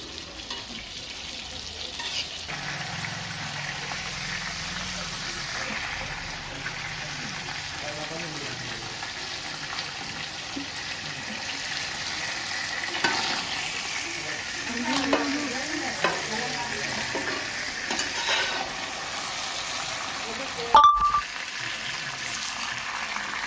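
Steady sizzling and crackling of food frying in a pan, continuous throughout with occasional stirring scrapes and a brief sharp clatter near the end.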